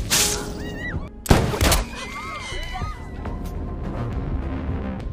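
A single sharp, loud gunshot from an action film cracks out over background music and whistling tones, followed by a lingering rumble and the music carrying on.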